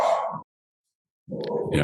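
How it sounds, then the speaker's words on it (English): Small dogs, a Chihuahua and a French bulldog, barking at home in two bursts separated by a second of silence, fairly close and loud. "dogs are barking"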